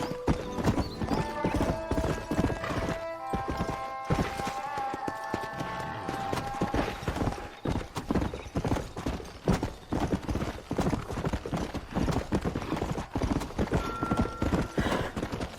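A horse's hooves clip-clop in quick, even galloping beats throughout a Red Dead Redemption ride, with a short whinny and bright tones early on, while a voice cheers briefly.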